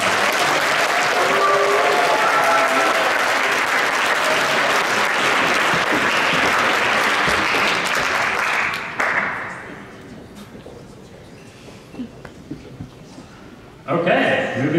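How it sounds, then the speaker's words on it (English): Sustained audience applause at a junior and senior science fair awards ceremony: loud, even clapping for about nine seconds, then a fade to a quieter room with a few stray claps before the sound rises again at the end. "If we could give this group a round of applause."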